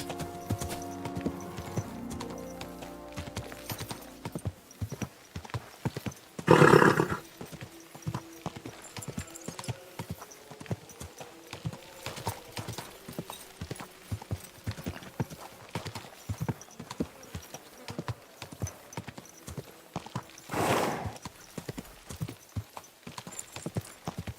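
Steady clip-clop of horse hooves walking at an even pace in the video game Kingdom Come: Deliverance II, with a brief whinny partway through and quiet surroundings.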